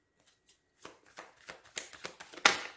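Oracle cards are shuffled close up in a quick run of riffling, rising from soft flicks to a louder burst of snapping card edges over about two seconds, with no talk.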